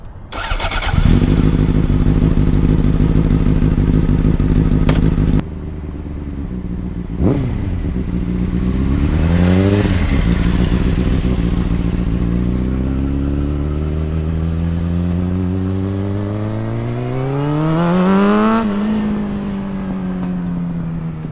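A 2004 Honda CBR600RR sport motorcycle starts near, idles, then roars past repeatedly, its engine pitch climbing and falling as it accelerates away and returns.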